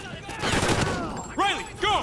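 Gunfire in Call of Duty Ghosts, a brief rattling volley of shots under battlefield noise, followed by two short radio-like tonal sweeps.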